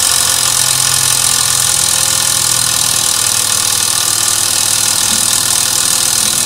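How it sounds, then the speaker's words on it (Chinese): A VP44 reverse-rotation diesel injection pump runs on a Taian Beacon pump tester, giving a steady, continuous mechanical hum with an even drone and no pauses throughout. "这是一个反转泵， 达到相应的转速。"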